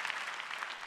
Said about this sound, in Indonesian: tepuk tangan dulu Pak Haji Bolot